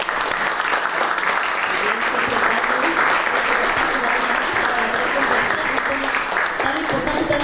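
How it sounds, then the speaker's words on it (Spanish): Loud, dense applause from a large audience fills the room at a Chilean tribute event honouring the host mayor, with continuous clapping throughout and a few voices buried in it. "Y también le vamos a dar un fuerte aplauso a nuestra dueña de casa, ¿cierto?"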